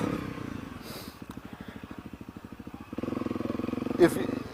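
A dual sport motorcycle chugs along up close, its single-cylinder engine thumping in a rapid even pulse that grows louder near the end, with a brief bump or clatter.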